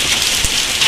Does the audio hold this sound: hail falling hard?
yes